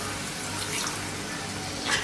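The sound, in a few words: pouring a glass of water into mushroom curry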